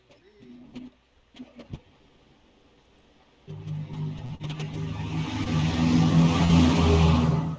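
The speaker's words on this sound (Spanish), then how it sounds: "pasan carros muy rápido" Cars pass fast outside, starting as a few faint, brief engine swells and then building after a few seconds into a loud, sustained roar of a vehicle speeding close by.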